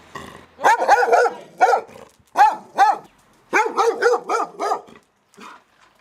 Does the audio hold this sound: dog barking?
yes